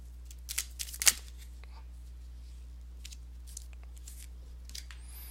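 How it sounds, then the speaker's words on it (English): Tarot cards being shuffled, a short burst of crisp riffling clicks early on followed by a few faint, scattered card taps in a quiet room. "Let me shuffle it one more time."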